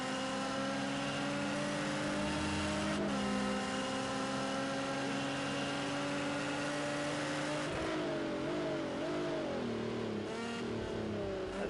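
A race car at full pace on a hot lap of the Zhuhai circuit in Project CARS 2, the engine droning steadily and shifting pitch through gear changes and corners, with no voices.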